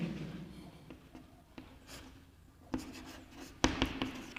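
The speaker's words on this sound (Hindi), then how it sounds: "यहाँ पर लिखेंगे" Chalk or pen writing on a board during a class 9 geometry lesson, a quiet scratchy scrawl with a few sharp taps and strokes, faint room tone behind.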